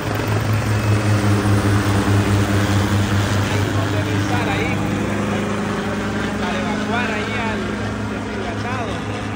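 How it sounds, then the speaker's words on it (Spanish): A TH-300C military helicopter passes over a military parade in El Salvador, its steady, loud rotor and engine drone running the whole time beneath crowd noise and voices. "Se aproxima el helicóptero."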